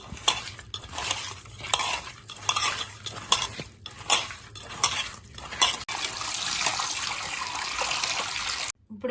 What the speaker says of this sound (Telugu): ఒక స్పూన్ సాల్ట్ వేసాను